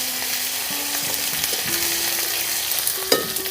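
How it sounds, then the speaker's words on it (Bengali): Chopped tomatoes fry with dried red chillies and cumin in a pan, a constant close sizzle broken by repeated scraping stirs of a spoon. "টমেটো একটু লাল লাল ভাজা হবে।"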